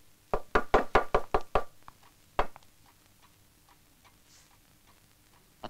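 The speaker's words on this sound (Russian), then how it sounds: "услышал слабый стук" Knocking on a door on the first morning of war, near the Bug River: a quick burst of about seven light, sharp raps, then a pause and a single louder rap, followed by quiet.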